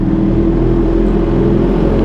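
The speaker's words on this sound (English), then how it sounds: "Ayan, engine brake lang ako." Kawasaki Z H2 motorcycle engine braking while riding, a loud steady drone of engine and wind rush close to the rider, continuous and unchanging with no voices.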